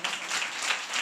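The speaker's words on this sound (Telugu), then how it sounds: "కొట్టు చప్పట్ల" Church congregation applauding during a sermon, a brief busy burst of many hands clapping, moderately distant and even throughout, with no speech over it.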